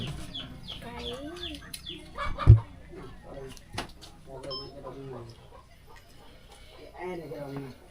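Chickens cluck intermittently in the background while people talk over them, with a sharp knock partway through.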